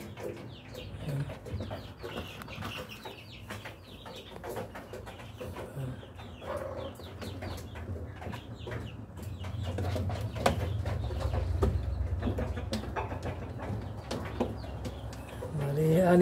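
Rhode Island Red breeder hens kept in a cage without a rooster cluck and murmur on and off, with other bird calls, soft coos and some handling noise around them, fairly close and moderately loud.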